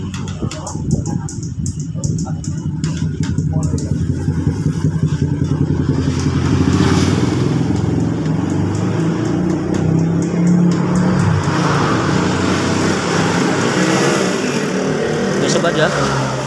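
A Scoopy motor scooter that had suddenly stalled runs again after an electrical repair. Its engine keeps a steady, close, buzzing idle with a slight rise in revs, while a person talks over it.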